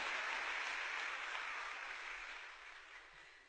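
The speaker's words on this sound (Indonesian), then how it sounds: "Tepuk tangan dulu bagi Tuhan Yesus." Steady applause from a church congregation, a dense wash of clapping that gradually tapers off.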